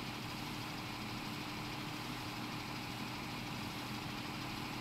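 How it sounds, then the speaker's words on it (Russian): A machine's compressor runs in Farming Simulator 17, a steady, even mechanical hum and hiss that holds unchanged throughout with no other sounds. "почему он трахтит компрессором?"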